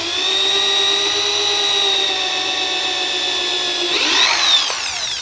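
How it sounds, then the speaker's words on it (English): A power drill whines at a steady pitch while boring pilot holes partway into wood for a DIY plant stand with wheels, then the tone bends as the bit bites and slows. It is close and loud, with no talking. "And then I'm going to drill, but not all the way through."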